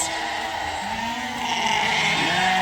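Sheep and lambs bleat on a sheep farm at weaning and feeding time, several overlapping wavering calls, loud and close, over a steady background din.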